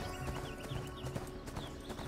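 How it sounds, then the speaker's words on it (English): Hooves of a horse in the ArcheAge video game clip-clop in a steady trot, with a faint whinny amid a busy, fairly quiet game soundscape. "Let's get on my horse."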